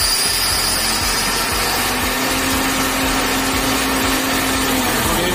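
A Tata BS4 pickup engine with an RPM fault and an open-load injector error on cylinder six, revving with a steady loud drone and a tone that rises and holds, close up with no voices.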